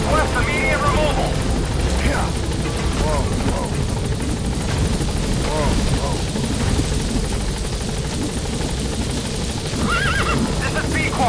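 Helicopter hovering near a landing zone in the video game Metal Gear Solid V, a loud steady rotor roar filling the whole stretch, mixed with horse whinnies and clip-clop hooves and brief radio-style voice snippets.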